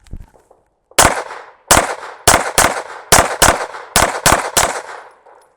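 Gunfire at an outdoor shooting range during a training session: a single shot, then a rapid string of about nine sharp, loud reports in quick uneven pairs, close by with no talk.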